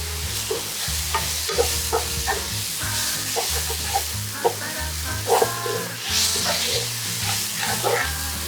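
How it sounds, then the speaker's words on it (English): A third of a cup of mushrooms sautéing with a generous pinch of salt in a pan: a steady, close sizzle with occasional stirring scrapes, running throughout under prominent background music, with no talking. "So it's a total of 1/3 of a cup of mushrooms. And I'm gonna saute"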